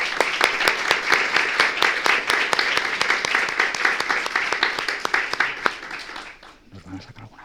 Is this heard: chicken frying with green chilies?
no